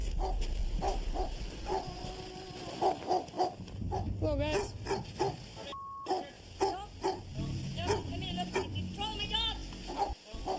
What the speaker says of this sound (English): Be advised, he does have about 3 large dogs in the residence.